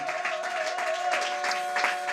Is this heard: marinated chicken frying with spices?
no